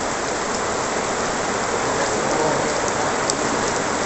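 Steady rain pours down and drums on surfaces, a dense, unbroken hiss at a constant loud level throughout with no voices.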